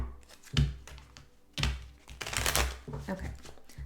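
A deck of playing cards given a couple of quick shuffles, close and crisp riffling bursts separated by pauses, with light handling noise and no talking.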